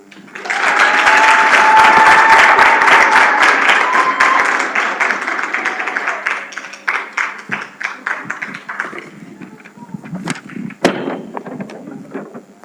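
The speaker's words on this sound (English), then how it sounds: "And another round of applause." Loud, dense applause from a large crowd, swelling and then thinning into scattered claps over several seconds.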